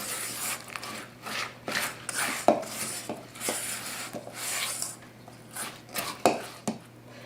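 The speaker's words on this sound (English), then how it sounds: "we're just going to mix that in with I'm using a spatula" A spatula stirring raisins and pecan pieces into butter pecan tart filling in a bowl, repeated close scraping and rubbing strokes against the bowl in an uneven rhythm.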